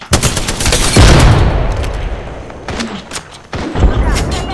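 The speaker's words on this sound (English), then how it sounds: "Grenade coming in." A grenade blast and gunfire in Apex Legends, with sharp shots, then a loud heavy boom about a second in that rumbles off, followed by further cracks of gunfire and another burst near the end; a voice speaks faintly beneath.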